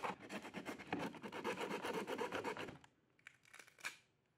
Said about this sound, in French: Maintenant que j'ai tout imprimé, passons à l'étape suivante, le ponçage.